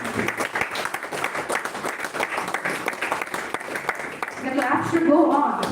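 An audience at the inauguration ceremony of a national-level oratory contest claps in a steady, full round of applause that fills the hall, and a voice speaks over the tail end.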